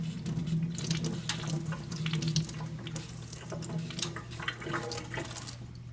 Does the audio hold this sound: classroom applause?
no